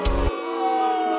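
Hi-hats built in FL Studio, played dry without delay, a short bright burst over a low thump at the start, then a sustained synth tone carrying on underneath.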